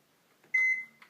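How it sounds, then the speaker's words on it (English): A microwave oven softening butter for cinnamon rolls in a home kitchen, heard as a short, quiet burst of sustained electronic tone that cuts off abruptly, followed by a faint click. "Give it about 8 seconds in the microwave and that'll solve all your problems"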